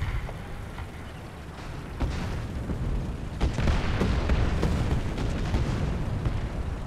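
A T-34E tank cannon fires in the War Thunder video game, with several loud booming blasts and crackling impacts over a constant rumbling engine and battle din.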